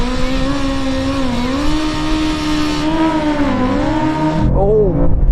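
BMW M5 CS car and BMW M1000RR motorcycle launching off the line in a drag race, a loud revving engine climbing through gears with rising whine and shifts, close and powerful, ending with an abrupt drop and rev flare.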